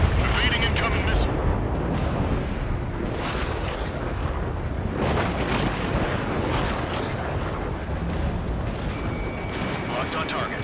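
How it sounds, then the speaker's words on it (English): Missile launches and explosions from the Ace Combat 7 air-combat video game rumble loudly and continuously, with dense low booms and whooshing bursts, while voices talk over them and a high beeping tone sounds near the end. "Strider 3, missile in the air! Evade!"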